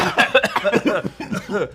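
Several short, harsh coughs burst out in quick succession, close and loud, mixed with bits of chuckling.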